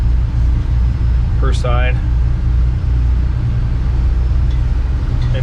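Twin boat engines on a Speed Twin come up just off idle while leaving harbor on a sea trial, a low steady rumble throughout with brief speech over it.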